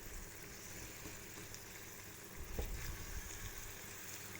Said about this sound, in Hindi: मसाले में अच्छी तरह से मिक्स करके मैंने इसे भूना है